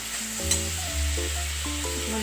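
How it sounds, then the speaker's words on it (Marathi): Chopped onion sautéing in a hot pan for cabbage sabji, a steady close sizzle with stirring scrapes and a brief sharper clink near the start, no voices. "चांगला परतायला पाहिजे, लाल व्हायला पाहिजे कांदा"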